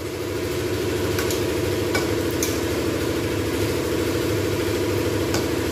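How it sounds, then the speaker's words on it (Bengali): Potato sticks fry in hot oil with a steady, even sizzle and faint bubbling crackle, joined by a few soft clicks, with no talking. "বেশ কিছুক্ষণ আমি কিন্তু এরকমভাবে ভাজতেই থাকবো।"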